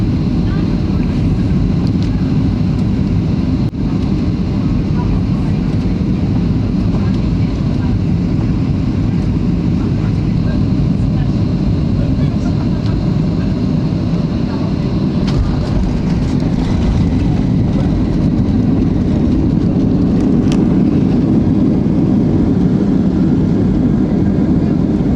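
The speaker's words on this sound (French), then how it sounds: "l'avion descend doucement sous les nuages" Steady broadband roar of an airliner descending beneath the clouds toward landing at Cairns, heard from inside the cabin as a constant low engine and airflow rumble with no talk.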